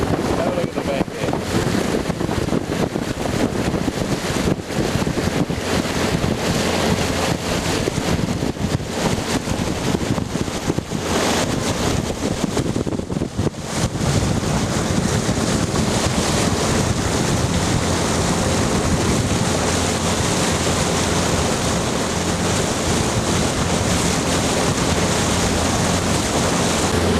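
Small boat motoring up a shallow creek with weed caught in the propeller, a constant loud churning drone mixed with heavy wind buffeting on the microphone and water wash, with no clear pauses.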